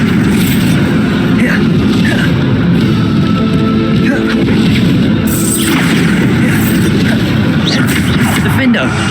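Bombarda explosion spells cast in Hogwarts Legacy amid continuous dense game combat noise, with booming impacts and crashes blending into a loud, busy mix of effects.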